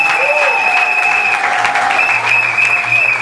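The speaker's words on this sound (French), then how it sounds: "Applaudissez très très fort pour la famille" Guests at a Congolese wedding evening party applaud the family, sustained clapping blended with a continuous high tone and background music, fairly loud throughout.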